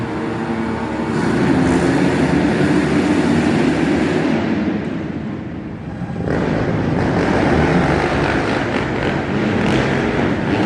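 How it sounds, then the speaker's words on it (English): Motocross dirt bikes, a 250 four-stroke and a 450 four-stroke, race around an indoor arenacross track in Lexington, Kentucky, their engines droning loud and continuous, dipping briefly mid-way before surging back. "we have a 254 stroke and a 454 stroke battling it out here on the track"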